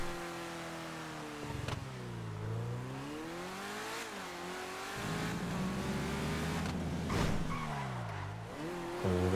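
A car engine in a stunt driving video game, a steady engine drone that rises and falls in pitch as the car accelerates and eases off, with sharp bursts like tire skids, loud and continuous.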